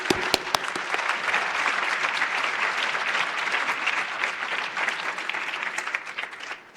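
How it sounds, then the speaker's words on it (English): Sustained audience applause for Cecil Award winners at a 2023 NAM annual meeting awards ceremony, a dense steady wash of clapping from a large crowd with a few sharper nearby claps at the start, fading slightly toward the end. "To have one more round of applause for all of our Cecil Award winners"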